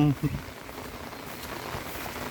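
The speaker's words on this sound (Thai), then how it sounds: "ฝนตกนะครับ" Steady rain falls outdoors over a rural garden plot with bamboo and sprinklers, a continuous soft hiss of drops with a brief voice at the start.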